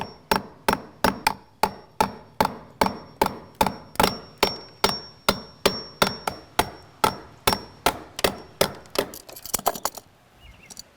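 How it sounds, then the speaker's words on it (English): A hammer drives a chisel to chip out a block for wiring while mounting a wired floodlight camera, making about thirty sharp, evenly spaced strikes at close range that speed into a rapid flurry before stopping. "Should be able to chisel just this block out a little bit."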